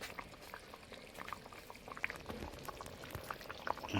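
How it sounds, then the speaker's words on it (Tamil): Water poured by hand during home village cooking of tamarind curry, a faint continuous trickling splash with small bubbling spurts, heard close and alone without speech. "தண்ணி ஊற்றிக்கோங்க."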